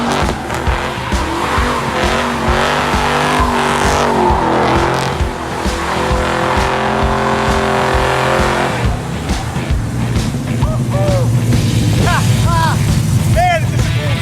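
A 500-horsepower four-door grocery-getter car drives loudly and close by, its engine droning steadily while tires squeal in several bursts near the end, with people talking over it.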